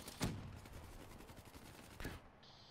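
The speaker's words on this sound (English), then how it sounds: "I'm tired of getting shot at my back" Gunfire crackles in the shooter game Black Ops 3 during an online match. A sharp shot or burst comes near the start, a rattling spread of fire follows, and a second loud burst hits near the end, with no voices.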